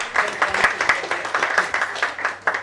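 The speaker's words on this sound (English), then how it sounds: "let's have a round of applause" An audience at a banking quiz competition's semi-final gives a round of applause, a busy run of individual claps sounding close and steady for a couple of seconds, with some voices mixed in.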